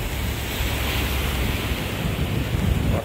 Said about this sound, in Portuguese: o mar tá bem agitado